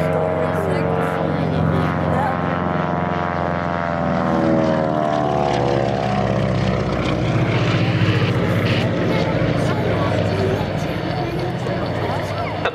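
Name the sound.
Beech 18 (UC-45) propeller aircraft flying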